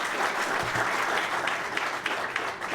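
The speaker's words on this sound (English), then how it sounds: "I think that deserves a round of applause." Steady applause from an audience at a public event, dense hand-clapping that stays loud and even throughout with no voices over it.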